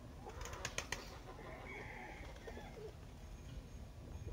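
Birds in a Bulgarian village yard, with soft dove-like cooing and a few brief wing flaps or sharp calls early on, heard over a steady outdoor background hum.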